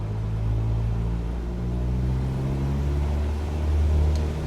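Light aircraft engine at full throttle in Microsoft Flight Simulator 2020, a steady low droning rumble with harmonic hum that swells slightly toward the end, continuous and fairly loud with no talking.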